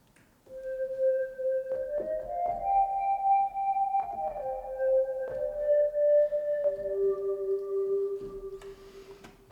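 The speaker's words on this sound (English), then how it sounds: "Now for the last sound, which is this DG flute, sounds something like this." DG flute patch on a synthesizer recreating the melody of a song, a clear, breathy lead playing a sequence of sustained notes with small pitch glides, alone and fairly quiet.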